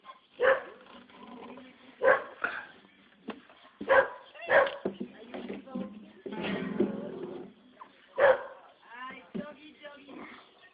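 A dog at an ashram barks repeatedly in sharp, loud bursts spaced a second or two apart, with a few softer whimpering yips in between.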